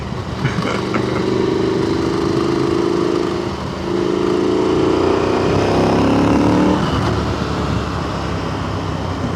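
A KTM 890 Adventure motorcycle is ridden on a twisty road in one gear, its engine note rising and falling in pitch with each burst of throttle over a steady rush of wind.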